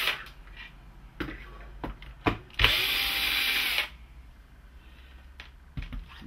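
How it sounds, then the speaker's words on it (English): A power drill backs screws out of a Promethean PRM-20A portable air conditioner: scattered sharp clicks and knocks, then one close, bright whirring burst of just over a second, followed by more quiet handling taps. "You have to take off these two screws in the front first."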